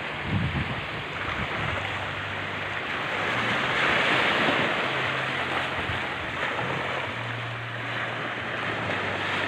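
Morning sea waves at Lobo, Batangas, washing in with a broad steady surf hiss that swells midway, a low engine-like hum running beneath, no talking.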